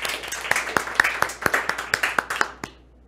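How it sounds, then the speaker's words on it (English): A small audience at a tech conference session claps in a short burst of distinct, fairly close hand claps that thin out and stop near the end. "So a big round of applause for the whole Cert-manager team and maintainers."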